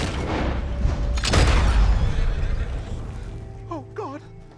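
Horse whinnying in Red Dead Redemption 2 on a road scene, a sharp rising neigh near the end after a loud thump and rumbling noise, with voices talking underneath.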